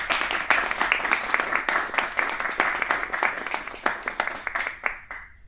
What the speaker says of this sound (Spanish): Pido a los asistentes un fuerte aplauso.